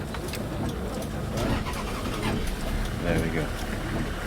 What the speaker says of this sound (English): Noisy little engine that you are.